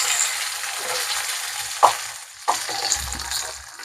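Curry leaves fry in hot oil with green chillies and onion for a Telugu-style ridge gourd milk curry, a steady broadband sizzle with a few sharp crackles and pops, close and fairly loud, no talking.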